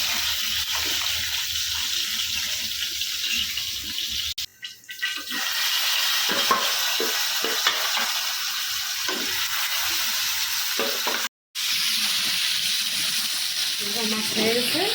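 Fish frying in a pan just after being turned, a loud broad sizzle and spatter that briefly drops out twice, with occasional scraping clicks close by.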